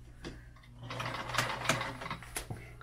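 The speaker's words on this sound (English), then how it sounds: "So a sewing machine is definitely a big plus." A sewing machine runs in short bursts, its needle tapping rapidly over a low motor hum, close and fairly quiet.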